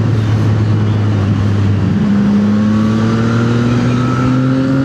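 A motorcycle accelerating hard in a power wheelie, its loud, close engine note climbing steadily in pitch through the gears with a rough, continuous roar.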